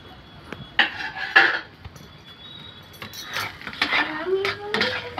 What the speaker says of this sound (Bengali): এবার আমরা ঢাকাটা খুলে নিচ্ছি।